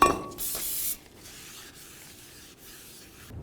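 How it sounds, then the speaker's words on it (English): Cleaner sprays in a loud hissing burst onto the braking surface of a front brake rotor on a Chevy Tahoe, then fades into quieter rubbing and faint shop noise. "Let's just clean down the rotor braking surface"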